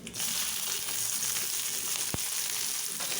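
Mustard seeds, urad dal and curry leaves sizzle steadily in hot oil, a close, continuous hiss with a single sharp pop partway through.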